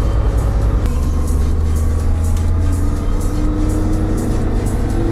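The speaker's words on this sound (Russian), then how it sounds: "Третья передача. Газ в пол." A Lada Niva engine runs at full throttle in third gear during a road drive. A loud, dense drone with heavy road and wind noise holds steady throughout, heard from inside the car.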